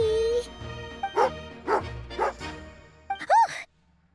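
Tagarin, an angry dog in the video game Genshin Impact, lets out a run of sharp, close yips and barks, four or five short bursts with brief pauses, ending in a higher whining bark.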